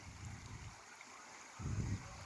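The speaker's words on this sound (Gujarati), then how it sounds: "આ બાજુ કેવું સાફ પાણી આવે છે નદીઓમાંથી" Clear stream water running down from the hills past farm fields, a steady rushing hiss with low gurgling surges, moderately close and without talk.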